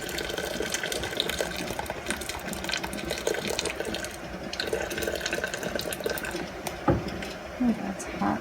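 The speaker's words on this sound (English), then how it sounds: "Grab one of these on the angle and just pour all the hot water out." Hot water poured out of a home canning pot while canning pizza sauce, a steady close splashing pour running throughout, with a voice speaking over it.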